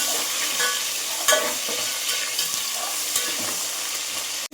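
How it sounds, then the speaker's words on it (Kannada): Garlic, cumin, curry leaves and coriander fry in hot oil with a steady close sizzle, broken by a few scraping stirs, with no talking. "ಕರಿಬೇವು ಕಡ್ಡಿ ಇಷ್ಟನ್ನು ಹಾಕಿ ಚೆನ್ನಾಗಿ ಫ್ರೈ ಮಾಡ್ಕೊಳ್ಳೋಣ"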